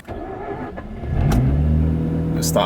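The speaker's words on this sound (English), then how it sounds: "Cold start." A Mazda RX-8 R3 rotary engine cranks briefly on a cold start, then catches and starts, settling into a steady, loud idle with a low rumble.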